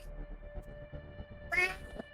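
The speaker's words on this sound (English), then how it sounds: "when the cat meows" A cat meows once in a tabletop roleplaying session, a brief bright cry rising above a low background hum and murmur.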